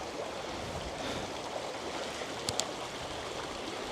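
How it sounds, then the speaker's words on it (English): A flowing stream rushes at the water's edge, recorded up close with an action camera in a waterproof case. The broadband wash is steady throughout, broken by two faint clicks near the end. No voices. "so now I'm at the stream"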